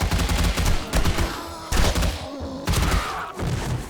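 Rapid bursts of gunfire in the 7 Days to Die video game, several loud volleys of shots separated by brief gaps, close and punchy with no talking.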